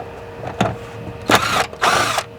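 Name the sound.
power tool undoing bolts with a 10mm socket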